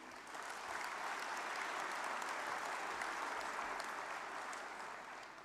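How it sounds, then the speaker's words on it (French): A congress audience applauds the FNSEA board in a large hall, a steady, dense wash of clapping that swells in, holds for several seconds and eases slightly at the end. "vous pouvez les applaudir"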